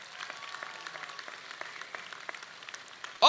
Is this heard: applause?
yes